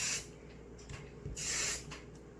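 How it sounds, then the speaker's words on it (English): Kevin Murphy Bedroom Hair hairspray hisses from the can onto curled hair in two close, short sprays, the second one longer. "Flick your hair around, spray it."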